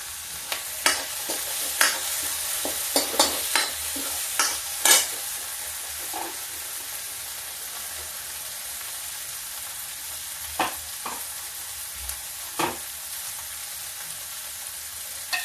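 A spoon scrapes and stirs through chana dal and pumpkin frying in oil with masala, giving intermittent clinks and scrapes over a steady, soft sizzle. No one speaks.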